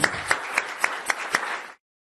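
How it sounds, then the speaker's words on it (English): Audience at a JWST science conference clapping after a talk: a short series of six evenly spaced, fairly close claps that cut off abruptly into silence. "Let's give her a round of applause again."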